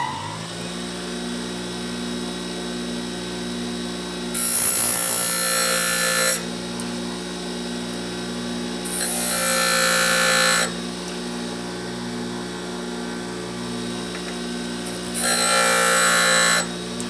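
A diamond grinder splits a lathe tool bit to form back rake, giving three separate bursts of harsh grinding, each about two seconds long, that rise loudly above a steady motor hum running the whole time.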